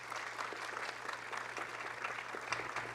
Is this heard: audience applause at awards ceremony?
yes